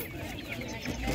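Chickens cluck at a livestock market selling poultry, short clucks close by, mixed with market noise and people talking.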